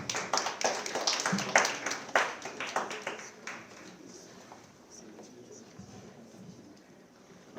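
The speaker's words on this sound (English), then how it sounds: "Let's give him a big round of applause" Audience at a university proverbs dictionary launch event clapping, a dense burst of applause that peaks early and then tapers off over several seconds into scattered claps and a quiet room.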